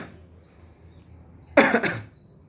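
A single muffled cough into a mask or the inner sleeve, a short close double burst after a quiet pause, fading quickly.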